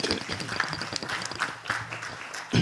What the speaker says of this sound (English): I want to give a round of applause to Wayne Rosenfeld and the East Midwood Jewish Center for hosting us